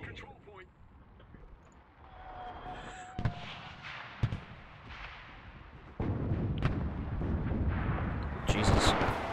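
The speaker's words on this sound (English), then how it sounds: "they're using an anti-tank cannon" Anti-tank cannon fire in a war video game, several heavy booming blasts spread through a busy battle soundscape with crackling gunfire and rumble, loud and close, while a player talks over it.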